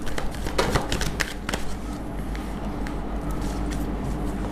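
Tarot cards being shuffled and drawn from a deck, giving a close, crisp run of riffling flicks and slaps in quick bursts that thin out into softer card handling over a low steady hum.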